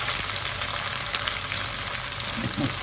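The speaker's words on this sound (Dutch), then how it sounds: "even ietsje bruin bakken" Sardines sizzle and crackle steadily in hot oil, a dense continuous frying hiss with a few small pops.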